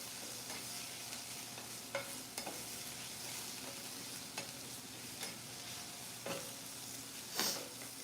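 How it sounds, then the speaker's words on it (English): Onions fry over medium-high heat in a pan with a soft, faint sizzle while a utensil stirs them, giving occasional scraping taps and one louder knock near the end, no voices. "So that means we need to give them a nice little stir."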